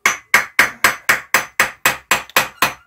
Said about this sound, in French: le travail de l'acier, ça se fait au marteau